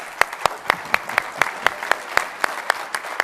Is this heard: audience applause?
yes